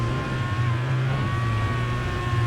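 A race car drifts with the handbrake at Lime Rock in Assetto Corsa, BDC Car Pack, its engine holding a steady, loud droning rev with a slight pitch dip, continuous throughout.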